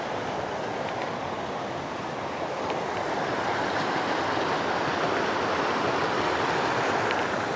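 Steady rushing water of a forest creek, a constant broadband wash with no breaks, fairly soft and heard alone without talk.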